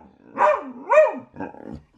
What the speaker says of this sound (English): And there are dogs.